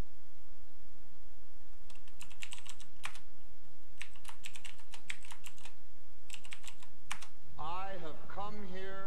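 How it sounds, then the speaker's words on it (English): A computer keyboard is tapped in three quick bursts of keystrokes as a password is typed, clicks crisp and close, with a voice starting to speak right after. "Let's hide that so you don't see me typing in my password."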